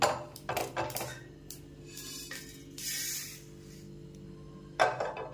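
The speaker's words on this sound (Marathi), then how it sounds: "मी हे एका प्लेटमध्ये काढून घेते" Metal spatula scraping and clinking against a pan as roasted masvadi ingredients are lifted onto a plate, with a few sharp taps and scrapes and a brief rustling stretch in a quiet kitchen.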